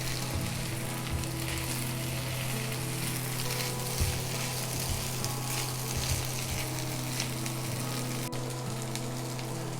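Fried egg is stirred together with the other ingredients in a pan for chicken noodles, producing a loud, constant sizzle and frying hiss with a steady low hum underneath and faint stirring scrapes.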